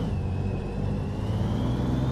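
A Western Star truck in American Truck Simulator pulls away in first gear, its engine droning steadily with a rising whine over a continuous low rumble, loud and close with no talk.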